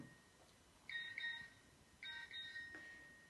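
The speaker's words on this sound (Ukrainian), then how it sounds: "Ні, смс якась прийшла." A mobile phone gives a text message alert: two short bursts of high electronic beeps, quiet and close, in an otherwise hushed room.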